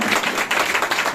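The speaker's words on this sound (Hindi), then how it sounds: "जोरदार तालियां।" Church congregation clapping hard in praise during a worship service, a brief dense burst of hands.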